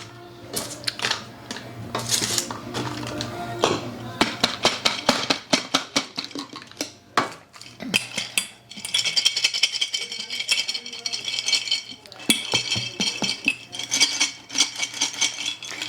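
Freeze-dried French fries rattle and clatter as they are packed into a jar, with busy clusters of dry, hard clicks and taps throughout, close and fairly loud, with no talk.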